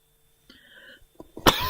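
A single person coughs once, a short sharp burst near the microphone after a brief quiet murmur, in an otherwise silent room.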